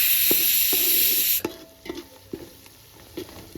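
Whole spices (cinnamon, cloves, coriander seeds, cardamom) and garam masala fry in a pan with a bright hissing sizzle that cuts off suddenly, followed by repeated scraping stirs and light clatters.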